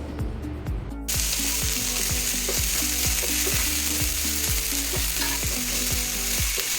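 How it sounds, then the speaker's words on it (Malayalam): Chopped onions and salt sautéing in a pan for a chicken curry, a steady loud sizzle and fry with regular scraping stir strokes throughout, starting after a brief quieter moment, no talking. "ഇനി ഇതിലേക്ക് ചെറുതായി അരിഞ്ഞ ഉള്ളിയും കൂടി ചേർത്ത് കൊടുക്കുന്നുണ്ട് കുറച്ച് ഉപ്പും കൂടി ചേർത്ത് നന്നായിട്ടൊന്ന് വഴറ്റിയെടുക്കാം"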